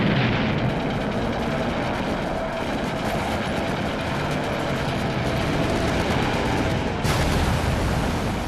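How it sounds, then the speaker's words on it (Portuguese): Japanese bombs pound an American airbase runway and command post, a continuous heavy roar of explosions and rumbling blasts with a sharper burst near the end. "Os japoneses bombardeiam a pista e destroem o posto de comando."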